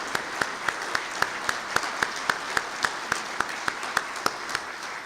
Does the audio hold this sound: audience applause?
yes